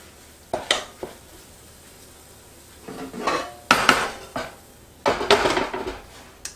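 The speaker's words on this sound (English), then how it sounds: "So I'm going to put the lid back on my electric skillet" An electric skillet lid set back in place while cooking stuffed pasta shells gives a few sharp metallic clinks and knocks, scattered and close, with brief rattles in between and no talking.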